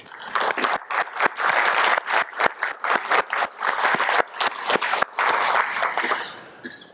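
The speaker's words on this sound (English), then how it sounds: "I want to give a round of applause to everyone in the room" A community meeting audience applauds with sustained, dense clapping from a room full of people, steady and fairly loud, thinning near the end.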